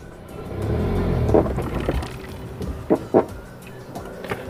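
A car engine idles steadily through a clutch test in third gear, a low continuous rumble broken by a few short mechanical thumps and clicks.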